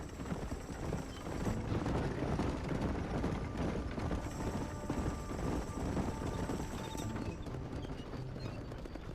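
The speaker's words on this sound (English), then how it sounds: "I can hear all the horses running" Hooves clip-clop in a steady, busy rhythm alongside the rumble of rolling wheels in the video game Red Dead Redemption, a continuous moving bustle with faint tonal music in the background.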